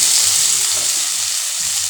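Chopped tomato dropped into hot oil with golden-browned onions for a soybean and potato curry, sizzling and frying steadily and up close with a bright hiss, no talking.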